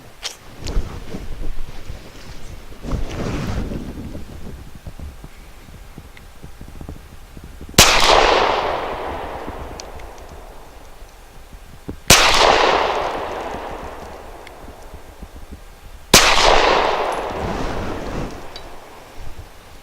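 Keltec PF-9 pistol firing Fiocchi flat-nose rounds outdoors, three loud sharp shots spaced about four seconds apart, each with a long rolling echo trailing off, after some softer handling noise and wind.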